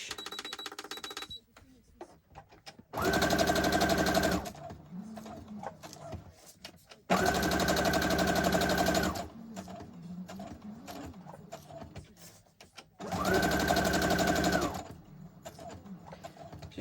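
A sewing machine runs straight stitches around the edge of a junk journal in three separate bursts of rapid mechanical whirring, each a couple of seconds long, with quieter handling and rustling between.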